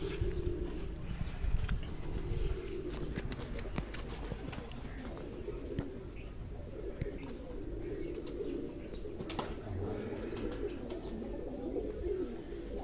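Pigeons at a home pigeon show near Sargodha coo softly and continuously under a dense, rumbling background, with someone talking intermittently throughout.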